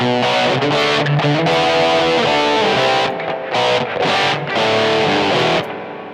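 An electric guitar plays a riff through a Boss eBand amp set to overdrive with a 60s Fuzz, producing loud, thick, buzzing distorted chords with sustained notes and short gaps between phrases.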